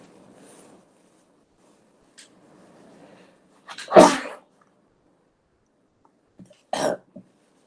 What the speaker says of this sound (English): Sorry, I'm gonna sneeze a lot.